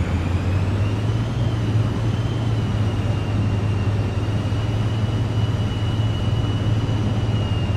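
A Cirrus Vision Jet idling and taxiing in Microsoft Flight Simulator, a constant low engine drone with a steady high whine, loud and unbroken.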